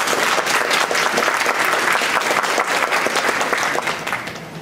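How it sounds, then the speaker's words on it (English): An audience gives candidates at a Richmond Crusade for Voters political forum a round of applause, with dense, steady clapping from a crowded room that holds at full strength and then tapers off at the end. "Let's give them a round of applause."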